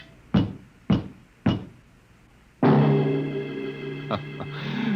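Knocks on a door as a radio drama sound effect, three loud, evenly spaced raps, followed by a sustained musical sting.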